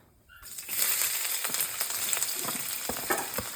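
Chopped onion drops into hot oil with cumin seeds for ghugni: a sudden loud sizzle bursts up and settles into a steady, close, crackling fry with small pops and a stir or two.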